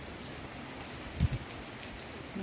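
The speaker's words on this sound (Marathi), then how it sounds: "मस्त असा पाऊस पडतो आहे" Steady rain falling in a village, a soft even hiss of drops on surfaces with a couple of heavier low drips partway through; no voices.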